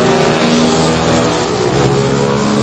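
A loud, revving motorcycle engine, close and continuous, roaring steadily throughout with no voices over it.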